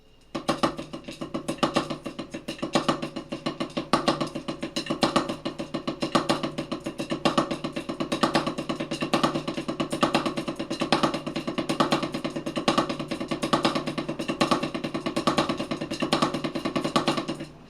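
A triple paradiddle is played on drums without accents on the paradiddle portion, giving an evenly spaced stream of crisp strokes at a steady, level volume for the whole stretch.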